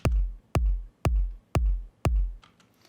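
Layered kick drums in an electronic remix, a reversed kick with another kick stacked on top, give five evenly spaced, punchy, deep thumps in a steady rhythm, with nothing else around them.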